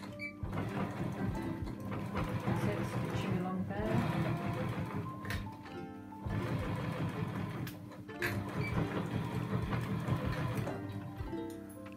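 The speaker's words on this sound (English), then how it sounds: "Okay, and then stitch along." A sewing machine stitching a homemade fabric face mask with elastic, a steady close mechanical whirring hum in long runs broken by brief stops, with quiet talk in the background.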